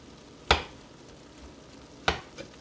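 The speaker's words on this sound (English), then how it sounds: "you really want to chop up that ground beef and make it small" Two sharp spatula strikes against a pan while ground beef seasoned with cumin is chopped and stirred, spaced well apart over a faint low hiss, with no talking.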